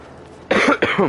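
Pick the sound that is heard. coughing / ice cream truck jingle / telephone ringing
coughing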